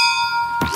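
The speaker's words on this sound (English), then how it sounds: "Give him some bell action" A handbell rung on a live radio sports show, giving a steady, bright ringing tone that holds throughout, with a brief noisy burst near the end.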